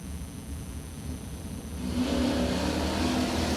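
Chevrolet Camaro drag car engine at a drag strip starting line, a steady loud rumble that grows louder and revs higher about halfway through, with no talk.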